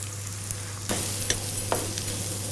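An ingredient crumbled into a hot frying pan for a gluten-free vegan lasagna sets off a steady close sizzle, which grows louder partway through as more goes in, with light stirring scrapes.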